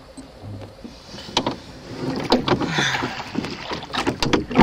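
Oars or paddles splash and dip in lake water from a rowing boat, with rhythmic strokes and water sloshing close by, steady throughout under light wind noise.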